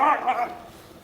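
Dogs housed together with a young lion cub give a short bark or yip, a single close, fairly loud vocal burst that fades quickly.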